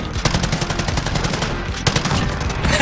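Gunfire from a Call of Duty: Modern Warfare match, a revolver among it, crackles in a busy, continuous stream of shots, with a louder crack near the end.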